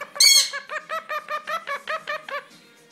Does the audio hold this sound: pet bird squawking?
yes